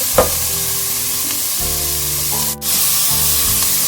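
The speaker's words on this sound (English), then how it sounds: "the bacon has released its fat. So I'm just gonna add the diced onions. Cook this a little bit." Diced onions fry in rendered bacon fat for minestrone soup, giving a loud, steady, close sizzle with bubbling crackle throughout and a brief stirring scrape near the end, no voices.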